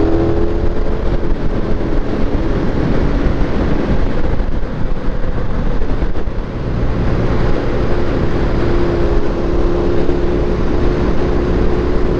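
KTM 1390 R Evo motorcycle with a V-twin engine, ridden on the road, a steady loud engine drone mixed with heavy wind rush at the microphone, holding an even level throughout with no talk.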